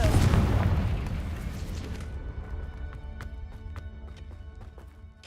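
A Confringo spell explodes in the Hogwarts Legacy video game with a loud, booming blast that fades over about two seconds, followed by scattered sharp clicks and impacts over a low, rumbling game background.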